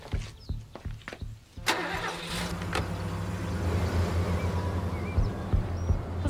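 A car engine cranks briefly and catches, then settles into a steady, close idle that runs on alone.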